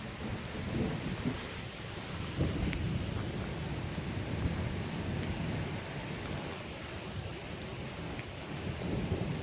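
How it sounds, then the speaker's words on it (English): Steady rain falls during a Central Wisconsin summer thunderstorm, a constant hiss with low thunder rumbling underneath throughout, captured outdoors without talk. "it's raining."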